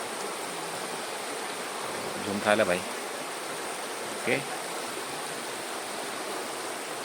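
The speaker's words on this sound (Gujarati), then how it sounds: "આ જોઈ લો પાછળ એક ઝરણું છે" Steady broadband rush of a forest stream flowing beside an outdoor picnic meal spot, continuous and moderately faint, with brief voices speaking over it.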